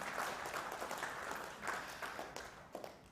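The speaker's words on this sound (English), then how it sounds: "can I get a round of applause?" An audience at a livestreamed web technology talk claps in a short burst of applause, uneven and somewhat sparse with individual claps standing out, fading slightly near the end.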